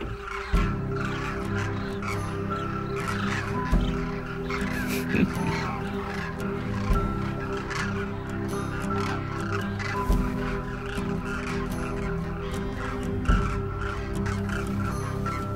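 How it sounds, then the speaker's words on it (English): Hundreds of cranes fly overhead in the Indian desert, their dense chorus of loud, overlapping trumpeting calls filling the air continuously, with many birds calling at once over a steady wash of sound. "there was a recognizable call piercing through the sky. And it kept getting louder. Hundreds of cranes appeared from the horizon."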